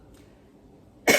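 A single short, loud cough bursts out at the end after near silence, close to the listener.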